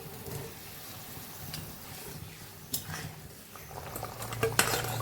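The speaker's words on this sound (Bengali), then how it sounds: "এবারে আমি ভাজা আলুগুলো দিয়ে দেবো" Fried potatoes go into a simmering pot of soybean curry and get stirred, with close, scraping utensil scrapes and a soft bubbling, sizzling background; no talk.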